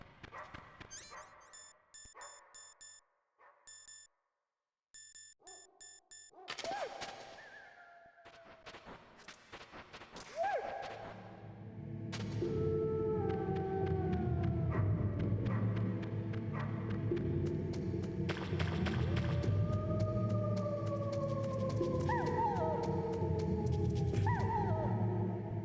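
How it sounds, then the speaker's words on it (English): A dog barks and howls at length, sharp barks at first, then drawn-out rising and falling howls that grow loud and continuous over a steady hum, with no talk. "I'm trying to speak when the dog's not barking"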